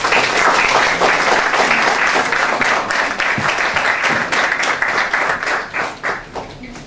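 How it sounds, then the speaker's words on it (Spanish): An audience at a conference on traffic congestion gives a loud, sustained round of applause to welcome a speaker, the clapping thinning into scattered claps toward the end. "le démosle un fuerte aplauso y bienvenida al ingeniero John Romero Conde."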